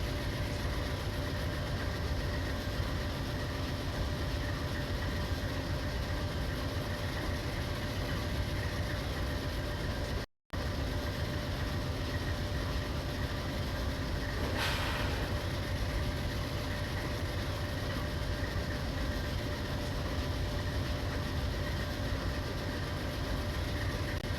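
A train in a train simulator video game runs on rails with a steady, continuous rumble and hiss, unbroken except for a brief dropout partway through. No voices are heard.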